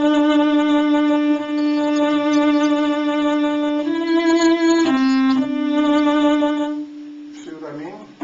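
A bowed string instrument plays a sustained, harmonically rich melody for several seconds, with a rough, careless bow change audible midway and a dropped phrase before the note trails off into brief rustle.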